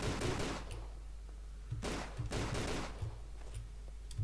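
Gunfire in Tomb Raider: The Angel of Darkness: several bursts of rapid shots pop and rattle in quick clusters over a constant low rumble, fairly loud and close, with no talk.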